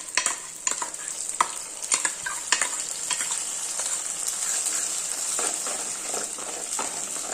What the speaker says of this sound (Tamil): இப்போ நம்ம 2 தக்காளி அரைச்சி வச்சுருக்கேன், அதை ஊற்றிக்கலாம்.